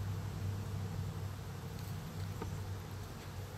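A hive of honeybees in autumn, a dense steady hum of many wings droning continuously at close range, with no voices over it.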